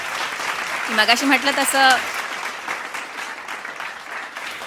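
Audience applause at a ceremony of the Karhade Brahmin Mahasangh convention in Mumbai: a steady wash of clapping from a crowd, with a voice speaking briefly over it near the start.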